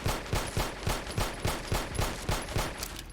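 A 10mm pistol with a fully advanced receiver fires semi-automatic in Fallout 4, about a dozen sharp shots at a quick, even rhythm, close and loud with no talking.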